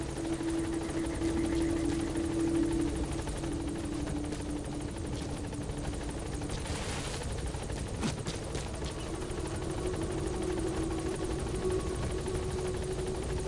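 A helicopter in Metal Gear Solid V runs in a continuous rotor drone with a steady low hum and a faint whine, holding at an even level throughout without any voices.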